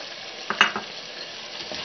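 Potatoes added to frying qeema karahi in ghee, a soft sizzle broken by a few quick clinks and stirring scrapes, fairly quiet and close.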